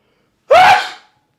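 A single sharp human sneeze bursts out loud and close, a quick rising gasp then a harsh burst that fades in under a second, with silence before and after.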